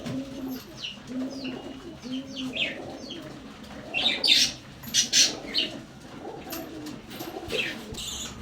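Rekdar pigeons cooing in a loft, several low soft coos repeating early on, then brighter chirps and fluttering bursts from nearby birds, all close with no voices.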